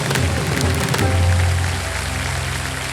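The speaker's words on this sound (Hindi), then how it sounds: "तालियां बज जाए देवी और सज्जनों" Dense applause from a quiz-show studio audience swells over a low, sustained musical tone and keeps going without letup, with no speech.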